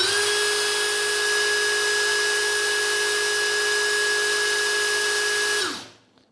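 A Dongcheng DCPL208 compact impact driver runs at its high-speed setting with a steady, loud, high-pitched motor whine, holding even for about six seconds before spinning down to silence.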